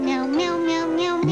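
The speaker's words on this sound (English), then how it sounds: "it's the only cat food that tastes so good, cats ask for it by name" A cat meows in a cat food commercial, one long, loud, tonal meow drawn out close to the microphone with a rising pitch at the end, alone with no talk over it.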